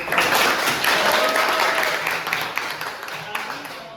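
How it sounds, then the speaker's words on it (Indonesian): A classroom of students in Indonesia applauds a classmate after a reflection during a geometry lesson, lively close clapping that gradually thins out, with some voices in the background. "tepuk tangan untuk"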